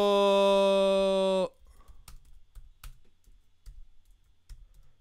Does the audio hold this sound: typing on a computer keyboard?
yes